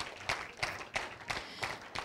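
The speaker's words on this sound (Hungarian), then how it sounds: "Tapsoljuk meg őket." Audience applause at an award ceremony for Open Academy students, heard as a steady run of hand claps with roughly evenly spaced louder beats, moderately close and unaccompanied by speech.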